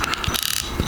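Drag ratchet of a KastKing Rekon budget fishing reel clicking in a short, close burst of rapid mechanical clicks.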